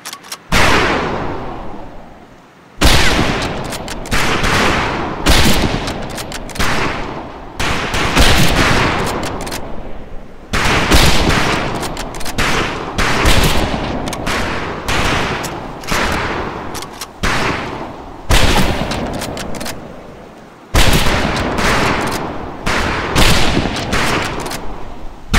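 Rifle fire on a boot camp target range in the Medal of Honor Pacific Assault video game; loud bursts of rapid shots from several rifles come in clusters separated by brief pauses, sharp and close throughout.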